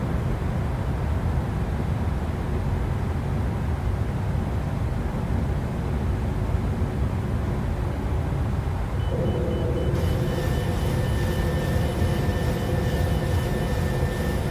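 A PMDG 737-700 airliner in a flight simulator game climbs out after takeoff from Boise as the landing gear retracts, producing a steady, continuous broadband engine roar with a slight tonal shift partway through and no voices.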